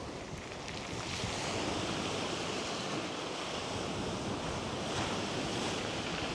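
Steady, broad wind roar fills the whole clip, rushing and gusting slightly, with a surf-like wash and no voices.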